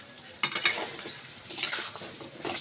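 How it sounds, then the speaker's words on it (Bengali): Potatoes being stirred and sautéed in oil-rich masala in a pan, with a spoon scraping and clinking against the metal at irregular moments over a steady close sizzle. "আলুটা আগে আমি একটু ভালো করে কষিয়ে নিব"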